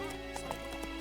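Hoofbeats of Roach, Geralt's horse in The Witcher 3, a quick clip-clop rhythm of several hoof strikes over a steady hum of background game sound, fairly faint.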